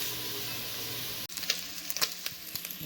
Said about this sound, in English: Now you want to brown the sausage without burning it.